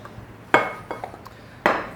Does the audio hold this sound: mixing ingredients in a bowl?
yes